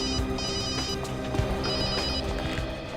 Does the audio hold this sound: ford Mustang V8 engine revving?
no